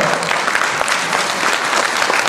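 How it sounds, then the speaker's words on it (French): Audience applause at an evening community show in Bondy commemorating the abolition of slavery, a steady dense wash of many hands clapping together, loud and continuous throughout with no talk over it. "On peut les applaudir très fort"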